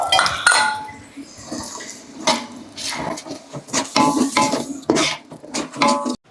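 Yogurt being stirred into chicken biryani masala in a large pot, with loud, close clanks and scrapes of a metal spoon against the pot in uneven bursts, no talking.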